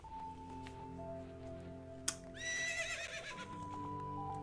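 A horse whinnies in the Legend of Zelda: Ocarina of Time video game, a bright rising-and-falling neigh standing out over a steady game music bed, with a sharp click just before it.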